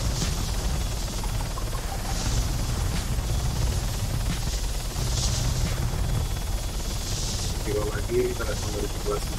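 A helicopter's rotor drone and hiss run continuously in Arma 3, with rhythmic whooshing pulses and faint game effects layered over the steady mechanical noise.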